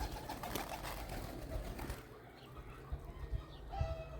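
A pigeon coos in short soft bursts close by, with light rustling and faint background noise, and no talk.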